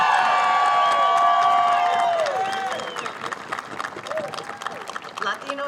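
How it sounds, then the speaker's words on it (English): A rally crowd at a Latino advocacy day breaks into loud applause and cheering that gradually thins into scattered clapping and whoops. "Let's give yourself a round of applause again."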